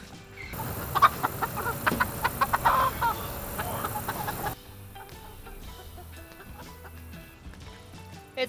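A backyard hen named Luann clucks repeatedly in a garden raised bed, a series of short choppy clucks close by, followed by quieter rustling and scratching in the soil.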